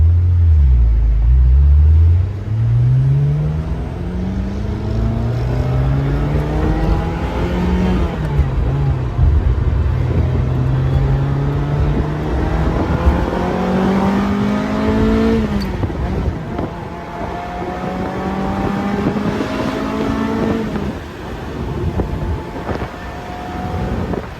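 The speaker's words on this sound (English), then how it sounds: "down mixed driving video of our 97 355 Spider" A 1997 Ferrari 355 Spider with a six-speed manual, driven top down, revs up through rising gears with its engine tone climbing and dropping at each shift, loud and close over steady wind rush and road rumble.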